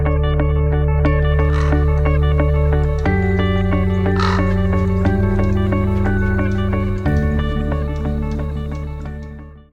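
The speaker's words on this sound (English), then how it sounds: "All those crows in the Bay Area." Crows caw loudly and close in the Bay Area, with repeated harsh calls in an irregular rhythm over a steady, tonal background hum. The calls are heard alone, without talk.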